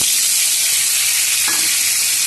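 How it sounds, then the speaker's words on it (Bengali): Bitter gourd hits hot oil seasoned with black cumin seeds in a kadai, giving a loud, steady hiss of frying that stays close and continuous. "কালো জিরে ফোড়ন দিয়ে দিয়েছি এবার আমি উচ্ছেটা দিয়ে দিচ্ছি"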